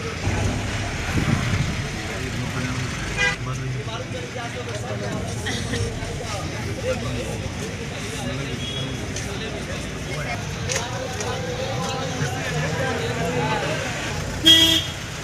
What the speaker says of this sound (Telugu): ఇక ఎప్పటి నుంచి ఇక్కడ డార్జిలింగ్లో అయితే ఫుల్ ట్రాఫిక్ జామ్ అయింది.